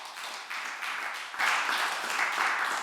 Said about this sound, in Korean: 건강을 위해서 큰 박수 부탁드립니다